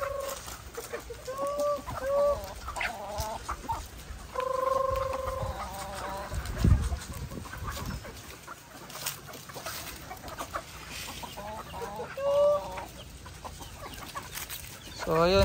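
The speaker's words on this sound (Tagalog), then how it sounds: "Sinasabudan ng girlfriend ko yung mga manok namin" A flock of chickens clucks and squawks steadily during island feeding time while feed is scattered, the calls close and busy, with people talking in the background and occasional handling noises.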